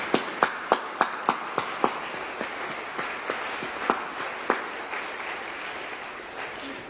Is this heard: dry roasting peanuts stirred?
no